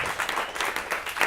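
Audience at a live comedy show clapping, a brief stretch of scattered hand claps with an uneven rhythm, fairly close and moderate in level.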